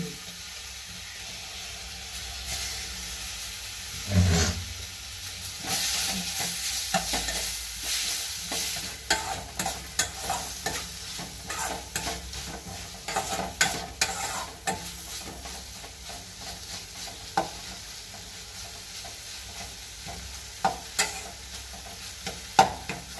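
Chopped tomato with spice powders frying in a pan for a chickpea curry, a soft sizzle under frequent scraping and clacking strokes of a spoon stirring close by.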